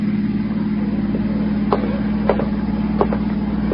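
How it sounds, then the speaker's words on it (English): Radio drama sound effect of a car driving, a steady low engine hum with a few faint clicks and knocks over it, fairly loud and continuous. "Now, there's a car out there."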